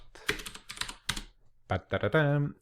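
Keystrokes on a computer keyboard as a short command is typed, a few quick bursts of taps followed by a brief voiced sound at the end.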